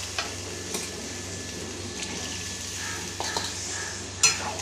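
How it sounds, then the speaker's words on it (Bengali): Potato and pointed gourd curry sizzles and fries in a pan after a little water is added, with a soft continuous hiss, occasional stirring clinks and a sharper splash-like burst near the end. "এবার এর মধ্যে দিয়ে দেবো জল"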